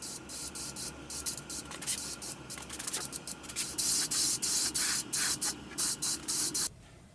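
Aerosol spray paint hisses in short repeated bursts as a light coat goes onto an old Western Auto boat motor cowl, loud and close, ending with a sudden stop.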